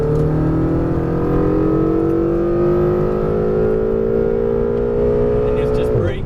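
Ferrari 488 GTB engine accelerating hard on the Las Vegas Motor Speedway track, a loud, steady rising whine with smoothly climbing harmonics for about six seconds, cut off abruptly near the end.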